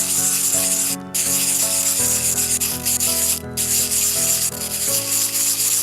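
Sandpaper rubbed in circles over the surface of a small handmade miniature dish, a steady close scratchy rasp with rhythmic strokes and brief pauses, no talking.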